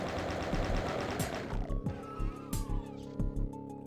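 A chain gun fires in a Doom map, a fast steady stream of shots at first, then breaking into short separate bursts with pauses, loud and close with no voices over it.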